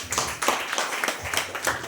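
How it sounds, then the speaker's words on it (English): Children clapping during a kids' brain yoga performance, a steady series of sharp claps in rhythmic bursts, fairly close, with no voices over them. "big claps"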